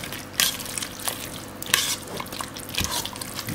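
Stirring sausage and Parmesan cheese inside a Housmile 6-quart 7-in-1 pressure cooker, with a few scraping, clinking strokes over a soft, steady cooking hiss, close and fairly quiet.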